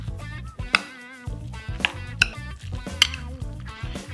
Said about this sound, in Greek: 350 γραμμάρια φέτα, λίγο ελαιόλαδο, λίγη ρίγανη, λίγο μαϊντανό. Ανακατεύω πάρα πολύ καλά.